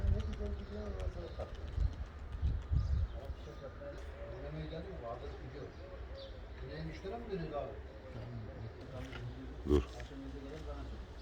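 Tumbler pigeons cooing close by, soft repeated coos over a steady outdoor background, with people talking throughout and a brief louder thump near the end.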